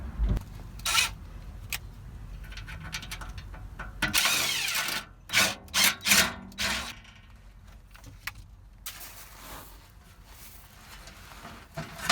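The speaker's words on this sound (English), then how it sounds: "we're going to take the 4 or 5 screws out of there and pull that out" A power tool backing out panel screws on a 1994 Holiday Rambler RV, several short whirring bursts with ratcheting and rattling handling noises between them, close and moderately loud.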